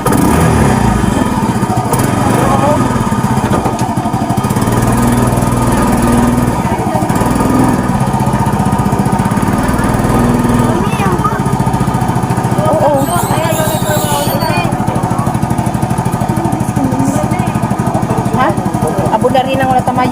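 A motor vehicle engine running loud and close with a rough, constant mechanical drone, voices talking over it.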